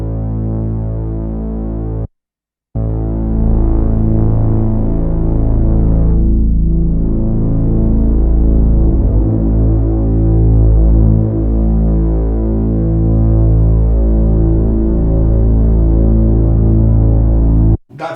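A Korg Prologue analog synthesizer stacks sub-frequency oscillators into a thick, sustained drone with deep low end and slowly shifting tones, loud and steady for most of the stretch apart from one brief gap near the start.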